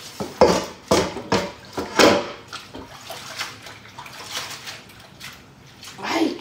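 Kitchen tap water running into a sink while dishes and utensils clink, with scattered clattering bursts and someone speaking intermittently nearby.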